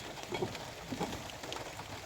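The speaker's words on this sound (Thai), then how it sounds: "ฝนก็ตก" Steady rain falls outdoors while bamboo is being pried loose, a soft continuous patter with a few scattered droplet ticks, fairly faint and even throughout.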